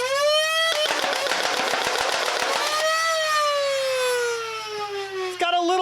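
Siren Blink gun in a video game firing at full rate of fire, a loud rapid stream of shots under a rising then slowly falling siren-like whine.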